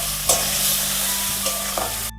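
Ground cumin, coriander, chili and turmeric powders sauté in a pan for a homestyle yogurt katla fish curry, giving a steady close sizzle broken by a few scraping stirs.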